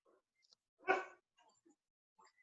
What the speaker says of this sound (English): I hear a dog in the background.